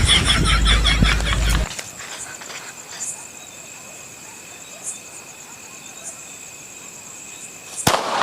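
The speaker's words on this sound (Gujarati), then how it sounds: "ફટાકડો ફોડવા છે મને" A firecracker bursting outdoors in a Gujarati comedy skit, with a loud noisy stretch at the start, then a quiet spell of steady insect chirring, and a single sharp bang near the end.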